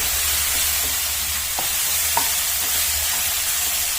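A spoon stirs red poha upma in a pan over medium flame, giving a steady soft sizzle with a few faint scrapes and taps, close and continuous, with no voices.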